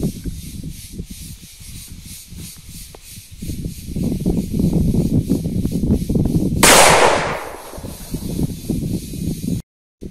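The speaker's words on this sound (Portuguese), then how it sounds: "A gente vai estar fazendo um teste agora, dando tiro na árvore ali a 20 metros" A single loud blast from a short-barreled homemade 28-gauge shotgun fired at a tree 20 meters away rings out partway through, a sharp broadband crack with a brief decaying tail over steady outdoor rustling and background noise.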